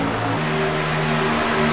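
Racing trucks at speed on a track, a steady loud engine drone with a sustained pitched whine that shifts slightly partway through, no pauses.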